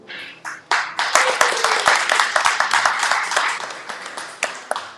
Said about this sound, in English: I have a feeling tonight will be a lot of hand clapping.